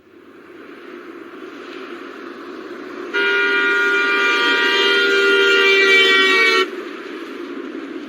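A police car siren rises sharply into a loud, bright, steady harmonic tone for about three seconds, then cuts back to a softer drone, with a background hum running throughout.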